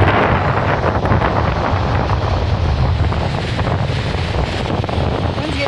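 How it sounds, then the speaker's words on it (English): Wind gusts beside a river in Michigan, a steady, loud rumbling buffet across the microphone that fills the whole stretch without letup. "winds getting kind of blowy."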